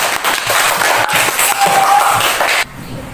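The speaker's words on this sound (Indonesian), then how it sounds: "Beri tepuk tangan untuk kawan kakak." A classroom of students applauds a classmate, a dense burst of clapping lasting a couple of seconds that cuts off abruptly into quiet.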